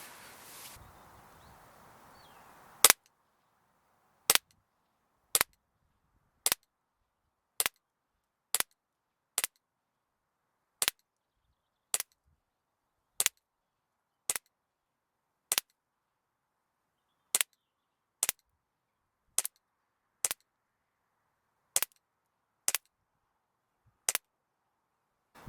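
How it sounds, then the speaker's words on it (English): Umarex VFC Walther PPQ M2 blowback airsoft pistol firing BBs at a target, about nineteen sharp snapping shots at a slow, fairly even pace, each crisp and isolated against near silence after a brief stretch of background noise. "we're going to put another magazine's worth of BBs on target"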